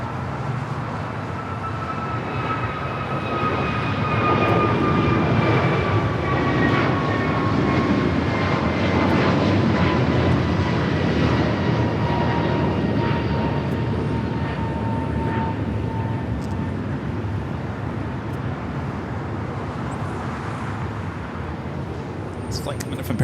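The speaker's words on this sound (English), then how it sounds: "Flight just taken off is heading to Honolulu." An American Airlines jet climbs away on takeoff from LAX, its broad engine roar steady and loud for the whole stretch with faint descending whine tones, while a voice talks over it.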